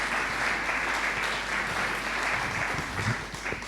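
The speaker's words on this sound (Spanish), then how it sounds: "Un aplauso para Vivi." Steady applause from a church congregation, a dense wash of many hands clapping together at moderate volume, continuing evenly for a few seconds with no speech over it.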